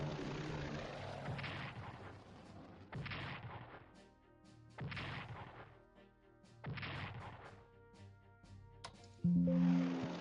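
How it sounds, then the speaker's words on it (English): Strategic bombers in a World War II strategy video game: low droning engine rumble with repeated dull explosive thuds at steady intervals, a tonal music-like hum underneath, no speech. "Let's use my strategic bombers to just take a peek of"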